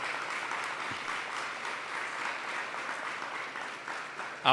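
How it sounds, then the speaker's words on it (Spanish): Sustained applause from a church youth gathering, steady and moderately loud throughout, with a sharper burst at the very end. "Me gustaría que le diéramos un fuerte aplauso"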